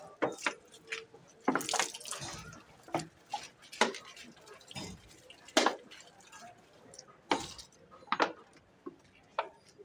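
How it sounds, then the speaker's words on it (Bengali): Water poured onto plants: irregular close splashes and drips, some louder and some soft, scattered across the whole stretch in a quiet space. "জলটা দিয়ে দিচ্ছি গাছে।"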